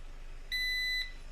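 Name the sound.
beep from a charger circuit when powered on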